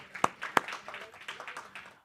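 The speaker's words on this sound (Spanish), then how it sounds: "Felicidades, un aplauso." Audience clapping for a long-married couple at a church gathering, two sharp close claps followed by lighter, scattered applause that fades, with no voices.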